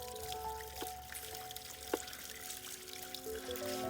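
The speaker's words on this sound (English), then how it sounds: "I'm also being careful when I pour the water, not to splash it all over the concrete" Water poured carefully from a container to rinse out a foul drain pipe, a faint trickling and dribbling stream with a few small splashes and drips, quiet and continuous.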